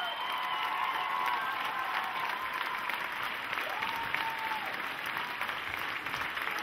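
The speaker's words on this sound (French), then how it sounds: "Bravo, ils sont formidables, on les applaudit très fort." Sustained applause from a large audience, a dense steady clapping that fills the room for several seconds without letting up.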